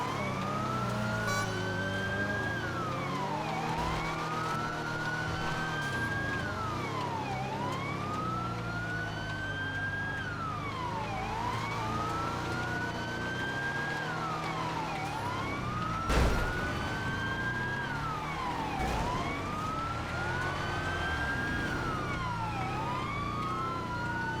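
A police car siren from the video game GTA FiveM, a vanilla GTA car in a Christmas race, wails in steady rising and falling sweeps, loud and continuous with engine noise underneath.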